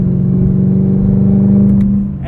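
A 2022 Chevrolet Camaro ZL1 1LE with a 10-speed automatic accelerating under full power on Pilot Sport 4S tires, a loud steady engine roar heard close from inside the cabin, fading slightly at the end.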